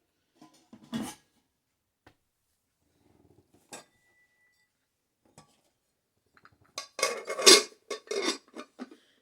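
Camp kitchen pots and utensils handled, with scattered isolated clinks and knocks, then a cluster of louder rattling metal clatter near the end, close by and with no talk.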